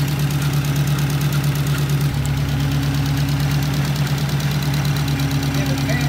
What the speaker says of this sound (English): the fan just cycled on here. Looks like it's running on low speed.